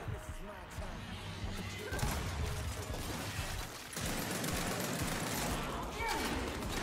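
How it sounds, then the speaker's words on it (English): Bursts of rapid gunfire in the shooter game Gears 5, played as a ranked King of the Hill match, sounding as dense, continuous fusillades with heavy impacts throughout, while a player talks over the action. "Shots."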